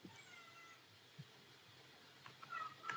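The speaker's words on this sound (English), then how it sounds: "Pussycat meowing for some reason" A cat meows a few times, short, thin cries near the end, faint and set against a quiet steady background hiss with no talking.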